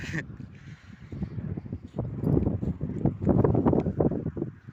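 Gusty wind buffets the microphone in rumbling bursts, growing stronger toward the end, with faint rustling underneath.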